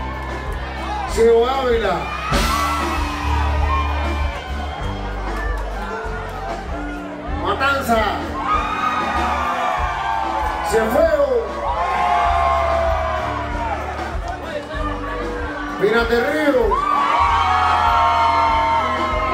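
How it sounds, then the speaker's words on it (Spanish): Lively crowd at a live comedy show whooping, yelling and cheering in repeated bursts, with someone talking over a microphone throughout, close and loud against steady audience chatter. "aplausos para toda la gente"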